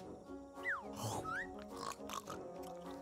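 A pig character oinks and grunts in the Yooka-Laylee video game, a few quick, nasal squeals and snorts close up over soft game music.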